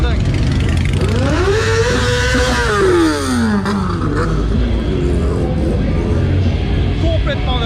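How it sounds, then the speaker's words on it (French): Harley-Davidson motorcycles rev loudly at a motorcycle rally in Florida, with a rising and falling engine sweep that peaks and then trails off into a dense, continuous rumble of several bikes close by, with crowd voices mixed in. "Il y a de la moto, de la Harley, du tout ce que tu veux dans tous les sens."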